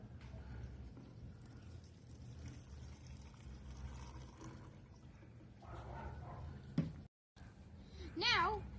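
A cup of hydrogen peroxide is poured into a container for an elephant toothpaste experiment, a soft liquid pour under steady children's chatter, with a dog barking nearby.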